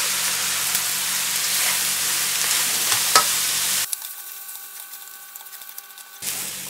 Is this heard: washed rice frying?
yes